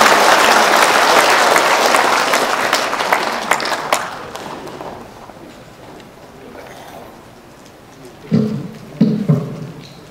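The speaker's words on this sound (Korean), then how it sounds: "여러분 큰 박수 부탁드리겠습니다" A packed hall applauding for an introduced speaker at a political gathering: loud, dense clapping that gradually thins and fades, followed by a few scattered claps and some faint murmuring.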